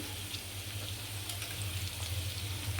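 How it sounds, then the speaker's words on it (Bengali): Vegetables fry in a pan with a little soy sauce, giving a steady, even sizzle with a low hum underneath, with no talking and no sharp breaks. "এখন এগুলো আমি দুই তিন মিনিট ভেজে সবজিগুলো ঢেলে দিব"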